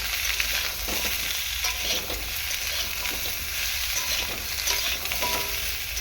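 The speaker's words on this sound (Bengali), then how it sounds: "তেলের মধ্যে ভেজে নেব হালকা করে" Vegetables fry lightly in oil with a continuous close sizzle and bubbling hiss, broken by a few soft stirring scrapes, with no talking.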